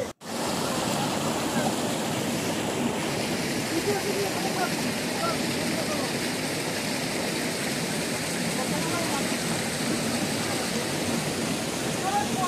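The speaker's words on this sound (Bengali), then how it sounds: "জলের আওয়াজটা শুধু একটু ভালো করে শুনুন, ভীষণ জোরে আওয়াজ, মানে পাথর থেকে একটা পাথরের জলটা পড়ছে" Water falls loudly over rocks in a stream at Belpahari, a dense continuous roar close by that stays steady the whole time after a brief start.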